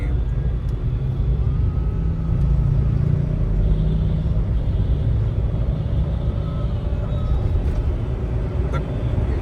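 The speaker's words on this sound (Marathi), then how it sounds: "7:30 झाले तर फुल ब्रिजवर ट्रॅफिक आहे आता." A traffic jam crawls on a Mumbai flyover near Growel's Mall, a continuous low rumble of idling and slow-moving engines with a faint hum overhead.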